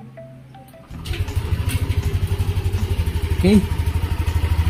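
A Yamaha Nmax scooter engine starts after a brief voice and settles into a loud, steady rhythmic idle with pulsing exhaust beats close by, one word spoken at the start.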